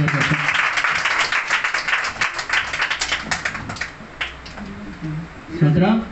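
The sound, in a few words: audience applause after a song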